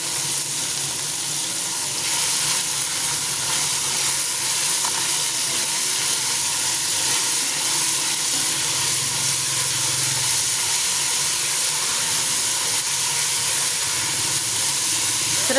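Shredded cabbage stir-fries in a hot pan with a loud, continuous sizzle and steamy hiss that stays steady throughout, with no talking.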